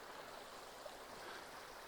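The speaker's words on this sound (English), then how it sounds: "I'm pretty sure this little creek over here is the one we just went past." A small spring-fed creek flows steadily along Tom's Creek Road near Comboyne Rock, a soft continuous wash of running water, faint and even, with no voices.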